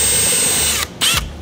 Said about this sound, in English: take a 5/16 drill bit and just very carefully drill a hole